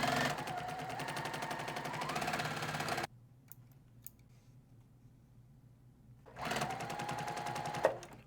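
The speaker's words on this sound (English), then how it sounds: "let's just show you how beautiful the stitch quality is on a Juki TL with industrial thread" A Juki TL sewing machine stitches with industrial thread in two close, loud bursts of rapid rhythmic needle chatter, split by a few seconds of quiet with faint clicks, and a brief sharp click near the end.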